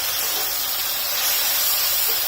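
Chopped tomatoes hit a hot pan of onions that have been frying until pink, giving off a loud, steady, hissing sizzle that holds evenly throughout with no voices.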